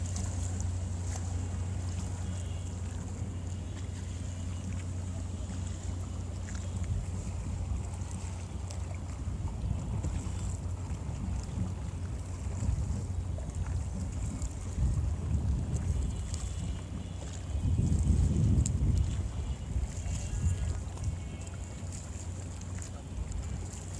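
A boat on the wide Khola Mora river near Dhaka, by the Madrabazar ghat, gives a steady low engine drone with wind rushing across the microphone, swelling slightly near the end.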